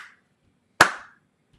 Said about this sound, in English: Little clapping.